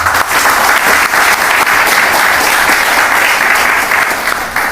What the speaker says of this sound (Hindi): एक बार मैं पुनः आप सबको जोरदार तालियां चाहूंगा